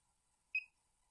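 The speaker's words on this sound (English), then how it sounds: "It beeps." A single short electronic beep from a calibration device, high and clean, sounds once in otherwise near silence.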